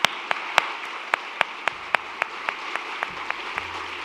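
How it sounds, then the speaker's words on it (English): Audience at a community foundation's annual meeting giving another round of applause for Joe Weston; sharp individual claps land at a steady, evenly spaced rhythm over a quiet room background. "Can we get another round of applause for Joe Weston?"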